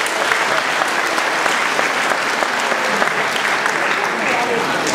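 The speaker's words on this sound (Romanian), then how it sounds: "Haideți aplauze pentru Moș Crăciun." Dense audience applause for Santa Claus at a village carol and folk traditions festival in Pogaceaua, Romania, a steady wash of many clapping hands with some crowd voices underneath.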